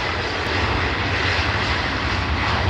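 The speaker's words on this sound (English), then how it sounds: "So that's your Ryanair max off to Alicante. Just starting the roll." A Ryanair Boeing 737 MAX airliner at Liverpool Airport begins its takeoff roll for Alicante, giving a steady, loud, broadband jet engine roar with a deep low rumble that holds constant throughout, with no voices.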